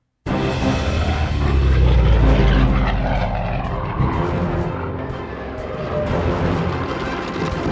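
Imperial Japanese carrier planes in the Pearl Harbor attack, loud propeller aircraft engines roaring steadily and densely throughout, with no talking.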